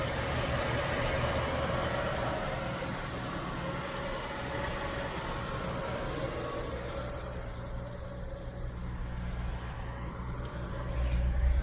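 A 1972 Chevy Nova engine runs with a steady, fairly quiet low rumble and faint broadband noise throughout, no one talking.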